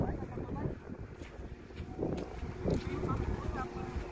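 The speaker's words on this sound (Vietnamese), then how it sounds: "Đây lộng gió quá" Gusty wind buffets the microphone outdoors while a group rigs ropes on a vehicle, with low rumbling gusts running throughout and people talking over it.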